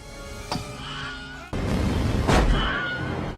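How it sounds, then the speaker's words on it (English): The Wilhelm scream, a well-known Hollywood stock sound effect, is heard as two sharp, bleating yelps about two seconds apart over a background hiss, with no talking. "The Wilhelm scream is maybe the most famous sound effect in Hollywood that is used when characters are shot or fall off high places"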